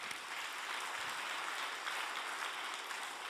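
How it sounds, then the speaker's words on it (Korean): Congregation at a church retreat clapping in an even, sustained round of applause, faint and somewhat distant, with no voices over it. "박수 부탁드리겠습니다"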